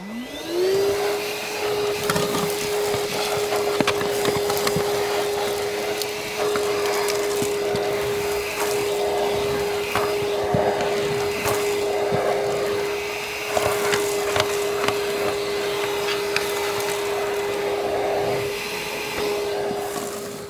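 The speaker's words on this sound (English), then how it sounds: "So do some hoovering first." A vacuum cleaner spins up and runs loud and close as it hoovers a Range Rover interior, its steady whine broken by scraping and knocking as the nozzle moves over surfaces.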